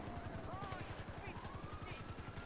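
Rapid gunfire in the video game GTA V, a steady rattling burst of machine-gun shots running under loud overlapping talk and game noise.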